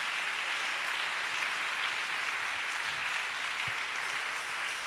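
Congregation applauding during a live praise and worship service at a CMCI church in Abidjan, Adjamé Liberté; steady dense clapping fills the whole stretch at an even level with no talk over it.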